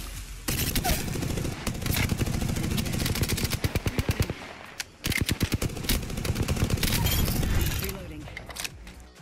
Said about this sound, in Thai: มันเป็น SMG ที่ใช้เฮฟวี่แม็กนะครับ ดังนั้นมันจึงเป็นปืน SMG ที่แรงมาก